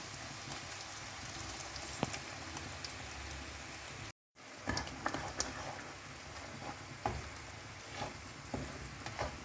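Chili paste sautés in hot oil, a soft continuous sizzle and crackle with scattered pops, quiet and close, with a stirring scrape now and then and a brief break midway.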